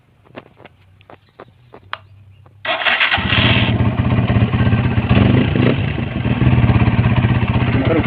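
A motorcycle that is hard to start when cold gets a few short clicks and ticks from the electric starter, then the engine catches and settles into a loud, steady, close clattering idle.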